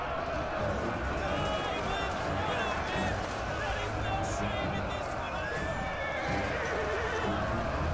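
Cavalry clashing in a Total War: Attila battle, with a dense continuous rumble of hooves, horse whinnies and crowd-like combat noise under a talking voice.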